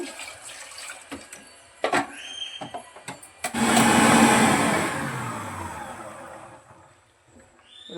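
A loud mechanical whirring and churning of a food processor mixing cream with water to make butter, starting after a few clicks and knocks, then winding down and fading out.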